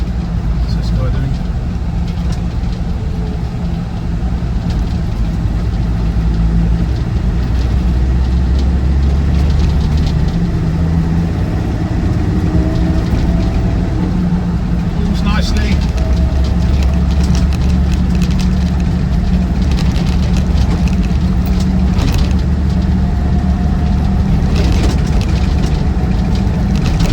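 A Land Rover Defender 90 TD5, Tomb Raider edition, with its diesel engine running on the move, a loud continuous low drone and rumble close by, with someone talking over it at times.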